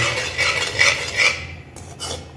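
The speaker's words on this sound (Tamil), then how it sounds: "நல்லா கிண்டிக்கிட்டே இருக்குங்க" A sohan chocolate sweet mixture with ghee is stirred in a pan, a continuous close scraping and clinking of a utensil against metal, followed by a couple of brief knocks.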